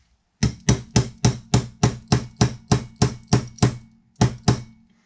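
Steady hammer blows drive a punch against a pin in a Tanfoglio Stock 2 pistol slide, about a dozen sharp, evenly spaced metallic taps up close, a short pause, then two more strikes, with no talk.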